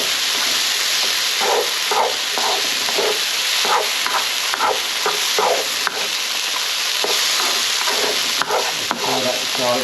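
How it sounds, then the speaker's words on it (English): Garlic and ginger sizzle steadily in a hot pan for a curry, a loud continuous frying hiss broken by the regular scrape and clack of a spoon stirring through them. "All that garlic and ginger cooking up now."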